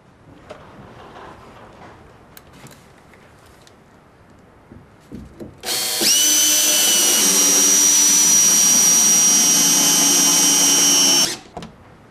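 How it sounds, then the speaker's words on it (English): A power drill drives a SPAX screw through a wooden board into a beam, a loud steady whine lasting about five seconds that starts and stops abruptly, close up, preceded by a few light handling knocks. "you want to screw together two planks or beams, or if you want to draw a board onto a beam"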